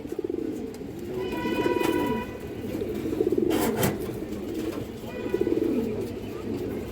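Old-line green-necked pigeons coo in repeated rolling phrases, several birds overlapping close by, with a brief sharper burst partway through and a steady low murmur underneath.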